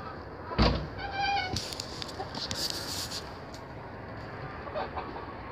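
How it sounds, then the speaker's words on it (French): Roosters scuffle and cluck in a French farmyard, with sharp flutters and short calls near and far amid background noise. "Les coqs se battent, il y en a souvent qui sortent."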